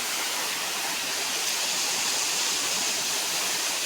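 Water pours over the Kolhe waterfall in a dense, continuous roar of flowing water, loud and close, with no breaks and no voices.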